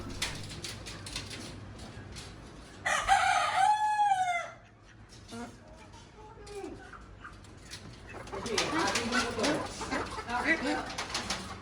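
A rooster crows loudly for over a second amid a busy poultry market where chickens and ducks are sold, with scattered clucks, chirps and a murmur of people and stalls in the background.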